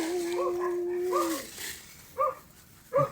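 A dog barks a few times nearby, with short sharp yelps and a drawn-out whine early on, against steady background noise.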